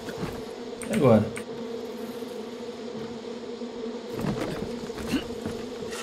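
A wasp nest in the Far Cry 5 game world gives off a continuous insect hum, with one loud close fly-by swell early on and softer passes later.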